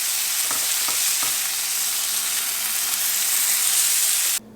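A burger sizzling on a Masienda comal, a loud, constant frying hiss with a few faint clicks near the start, cutting off abruptly at the end.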